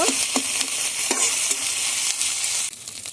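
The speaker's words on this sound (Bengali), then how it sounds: "পেঁয়াজ আদা রসুন ভালোভাবে ভেজে নিয়েছি" Onion, ginger and garlic fry in a pan with a loud, steady hiss of oil, broken by a few brief scrapes of a stirring spoon, close up and with no talking.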